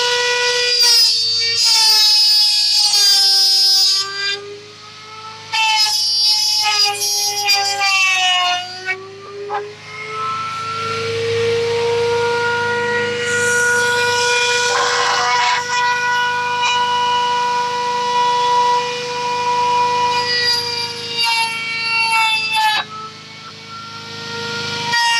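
A rotary tool cuts band grooves into a handmade slingshot, giving a loud, steady high-pitched whine that dips and changes pitch as it bites in, with brief pauses between passes.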